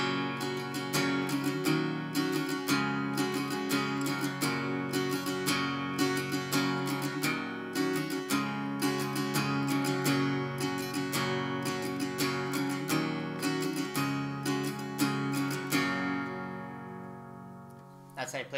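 An acoustic guitar plays the intro and verse of a song at full tempo, with steady rhythmic strumming and picked accents running continuously for about eighteen seconds, then a final chord left to ring out, close and clear.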